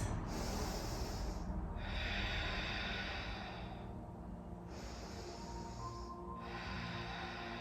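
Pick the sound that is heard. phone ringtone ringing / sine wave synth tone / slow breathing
slow breathing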